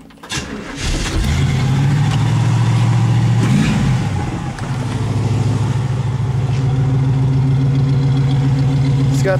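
A 1967 Camaro RS convertible's big V8 engine cranks and catches, then settles into a loud, steady, rumbling idle through its stock exhaust that runs on without a break.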